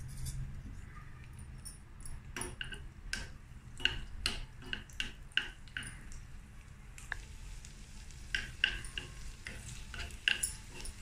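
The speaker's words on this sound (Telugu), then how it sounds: "ముందుగా కిస్మిస్ వేసి అది కొంచెం వేగిన తర్వాత బాదం వేసుకుందామండి" Raisins fry in ghee and are stirred around a pan for apple kheer, making a soft sizzle under a run of light, close spoon taps and scrapes against the metal, no speech.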